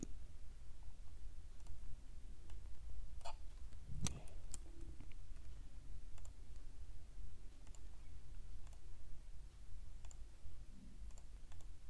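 Quiet, close clicks and key taps on a computer keyboard and mouse, scattered irregularly over a steady low room hum, with one slightly louder bump near the middle.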